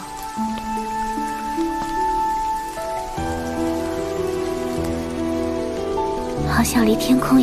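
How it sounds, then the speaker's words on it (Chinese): Steady rain falls and patters on surfaces, a constant wash of drops under a layer of sustained music tones. "下雨了。"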